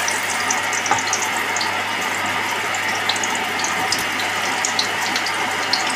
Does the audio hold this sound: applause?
no